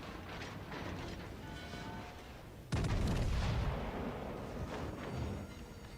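Battleship main gun turrets fire a salvo in the naval video game World of Warships Legends, a sudden loud booming blast that cuts in mid-clip over a steady background of game noise, with a rumbling tail.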